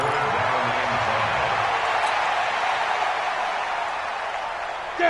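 A steady roar of a stadium crowd cheering in a PS4 American football video game before a big third down, a broad sustained wash of noise that slowly eases and stays under the game's commentary.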